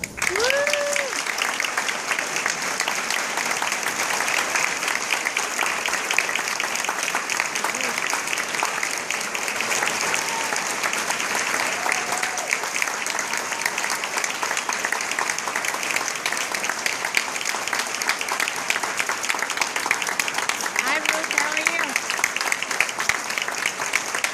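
Sustained, enthusiastic audience applause fills a hall at a Hawaiian Vegetarian Society lecture, steady dense clapping welcoming the speaker, with occasional faint whistles and calls over it.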